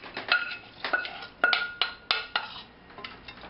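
Toasted almonds tumble into a pan of green beans, making a quick run of light clattering clicks and rattles, several small bursts in succession, close and fairly crisp with no talking.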